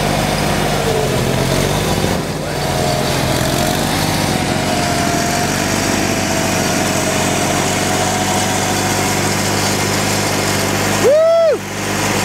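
Craftsman snowblower running steadily while clearing snow in a northeaster snowstorm, a continuous loud engine drone held for the whole stretch, with a brief rising whine near the end.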